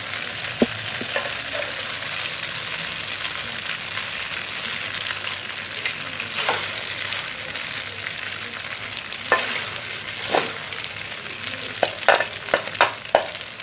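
Eggs sizzle and fry in a wok for Thai stir-fried soy sauce noodles with beef, with a steady broadband hiss and a few sharp scraping stirs toward the end, close and fairly loud, no voices.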